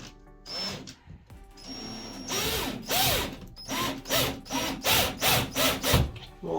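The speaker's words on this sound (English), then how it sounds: "I'm going to start this first screw." A screw is driven by hand into a metal pipe flange for a farmhouse-style bathroom shelf, giving close, rhythmic ratcheting and creaking strokes that grow steadier and louder.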